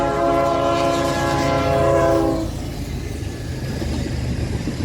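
A westbound Norfolk Southern freight train passes near Sandusky, Ohio, its air horn blaring as a loud multi-tone chord that cuts off partway through, with the low rumble and rattle of the cars continuing close by.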